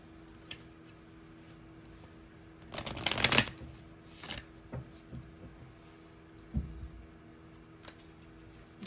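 Tarot cards being shuffled close by, a quiet room broken by one loud riffling burst followed by several softer, scattered card slaps and taps.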